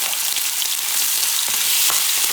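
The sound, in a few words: pork chops searing in a pan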